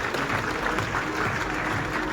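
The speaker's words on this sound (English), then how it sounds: "Let's have a big round of applause" An audience at a leadership summit at LPU gives a round of applause: dense, steady clapping fills the room at an even loudness for a couple of seconds, with no voices standing out.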